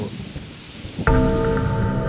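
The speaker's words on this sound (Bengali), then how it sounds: "বৃষ্টির ছোট দু এক ফোঁটা তার গায়ে পড়ল" Rain sound effect in a Bengali ghost story narration: a sudden onset of steady rain with a rumbling thunder-like roar, loud and continuous after a quieter start.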